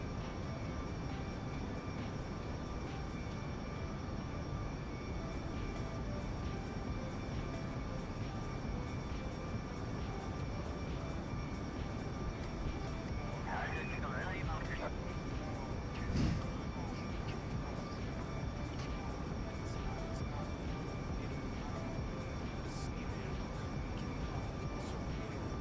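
Steady broadband aircraft engine drone as a plane overflies an island in Kerbal Space Program, a constant loud roar throughout with a brief louder burst midway and no talk.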